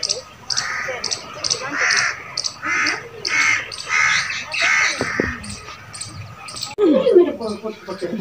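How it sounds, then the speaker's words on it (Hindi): Several crows caw in a rapid repeated series, loud and nearby, with other bird calls joining near the end. "और ऊपर रहे सारे कौवे।"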